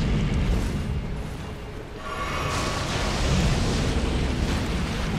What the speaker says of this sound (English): That looks like an explosion!